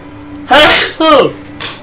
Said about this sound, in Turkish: Sen mi hapşırıyorsun?